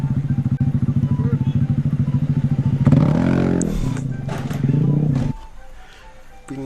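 An automatic scooter's engine idles with a rapid pulsing putter, then is revved hard in a rising roar before dropping back, heard close on a roadside with voices talking over it.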